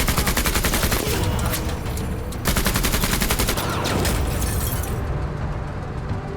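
Dense, loud gunfire from the Menace video game, rapid automatic bursts crackling continuously with heavy booming impacts mixed in, pausing only briefly before the barrage resumes.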